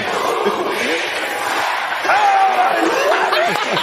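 A stadium crowd at a SWAC college football game roars continuously, with a steady wash of cheering and individual shouts and whoops rising above it, close and loud throughout.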